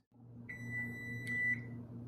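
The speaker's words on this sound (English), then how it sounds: "The timer is going off." Oven timer beeping during cheesecake baking: a long electronic tone followed by a short beep, clear and close over a low steady kitchen hum, with no talking.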